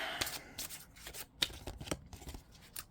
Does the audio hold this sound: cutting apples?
no